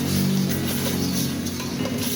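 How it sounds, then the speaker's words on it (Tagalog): Chicken sinigang soup at a boil in a pot, giving a steady, dense bubbling hiss that carries on unbroken at an even, fairly loud level. "Ayan, kumukulo na."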